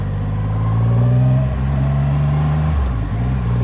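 A 675 SR-R motorcycle engine revs loudly and close by, a steady deep drone with shifting pitch that dips briefly near the end.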